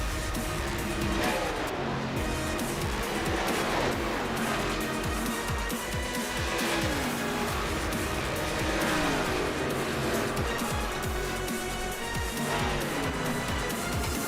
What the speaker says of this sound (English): You hear the roar of the 43 stock cars in the high banks in Michigan.